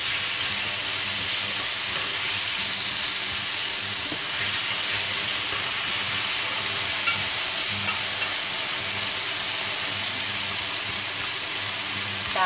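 Squid stir-frying in a hot pan for a sweet and sour dish, a steady loud sizzle and hiss that runs unbroken throughout with faint scraping of stirring and no voices.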